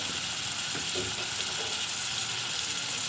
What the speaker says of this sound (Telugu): టమాటాలని వేసుకోండి ఒక నాలుగు పచ్చిమిర్చి వేసుకోండి కొంచెం కరివేపాకు వేసుకోండి